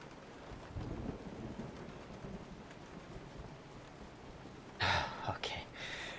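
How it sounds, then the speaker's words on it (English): Steady rain with low rumbling thunder fills a scene in the survival horror game Resident Evil 7, with a louder crackling burst near the end. "It's a terrible day for rain."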